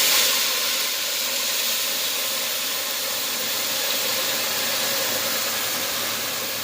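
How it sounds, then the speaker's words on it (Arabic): Broth poured into a hot pan of fried rice, sending up a loud, continuous steaming hiss and sizzle that stays steady and close for several seconds with no talking. "بعد ما حمرنا الرز كويس قوي ننزل بالشوربه القمره الجميله دي"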